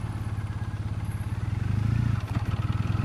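A 2014 Triumph Bonneville engine chugs low and uneven in second gear, lugging close to a stall with rough rhythmic pulses that swell briefly and then recover, close by with no talk.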